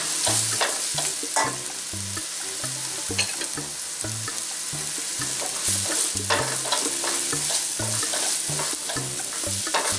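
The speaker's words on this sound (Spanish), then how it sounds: "Como eso está finamente picado, se fríe rápido." Onion and finely chopped chiles sizzle steadily in a pan for Mexican-style cauliflower rice, with a utensil stirring and scraping in a regular rhythm close by.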